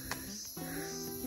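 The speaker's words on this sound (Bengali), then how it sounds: "এরকম ঝিঝি পোকার ডাক।" Crickets chirping in the hush of a hilltop near Aritar in offbeat Sikkim. A faint, steady tonal trill runs alone for a brief moment.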